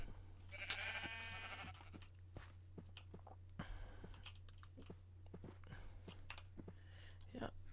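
Sheep bleating in the video game Minecraft: one short, faint bleat near the start over a low steady hum, followed by scattered soft clicks.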